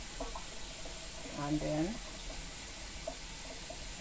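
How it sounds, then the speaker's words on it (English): Tap water runs steadily over callaloo leaves to rinse off sand, a constant wash of flowing water while a voice briefly speaks. "So I'm just letting the pipe run on it to wash off any sand that is on it"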